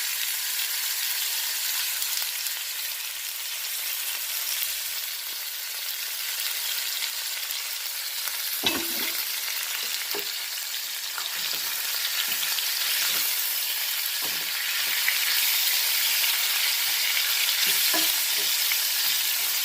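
Beef frying in oil in a pan alongside udon noodles, a steady close sizzle with occasional stirring clatter and scrapes, no talking.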